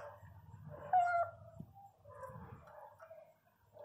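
A pinscher dog gives short yips and whimpering barks at close range, a louder burst near the middle, with low background rumble and no talk.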